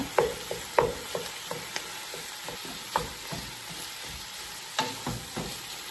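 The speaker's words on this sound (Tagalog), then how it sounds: "put garlic, ground beef, brown natin muna siya" Garlic and ground beef brown in a pan for Filipino sweet spaghetti, giving a continuous frying sizzle broken by sharp spatula scrapes and taps at an uneven pace, up close.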